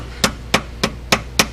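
Five evenly spaced, sharp taps of a plastic hammer driving a main bearing into an ISX diesel engine block during a rebuild, each strike crisp and close with a short ring, no talking.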